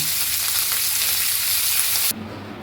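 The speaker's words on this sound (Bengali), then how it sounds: "আমি এখানে ক্যাপসিকামটা কড়াইতে দিয়ে দিয়েছি" Capsicum sizzles and spits in hot oil in a wok, a steady, loud broadband frying hiss that cuts off sharply near the end, leaving a quieter low hum.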